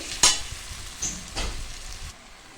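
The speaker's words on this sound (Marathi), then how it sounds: "याच्यामध्ये आता आपल्याला तिखट हवं तेवढी मिरची पावडर ॲड करायची तर साधारण मी इथं अंदाजी एक चमच्याच्या आसपास घातलेली आहे थोडंसं मिक्स करून घेऊ" A spoon stirs chilli powder into a sizzling pav bhaji masala base in a pan, giving a few short scraping strokes over a soft frying hiss; no voices.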